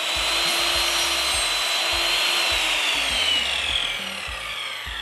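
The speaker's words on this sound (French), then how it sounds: "Je règle la machine, 45 degrés, c'est automatique, et je coupe." A power miter saw sets at 45 degrees and slices through wood trim for wall paneling, a loud, sustained whine with a rough grinding edge that eases off near the end, close by.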